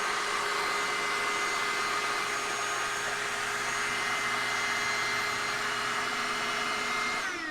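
Electric air pump inflating a camping air bed, a steady loud motor whine and rushing airflow running continuously throughout with no pauses.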